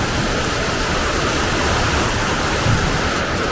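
Heavy rain pours down in a dense, unbroken roar, loud and close, with no voices over it.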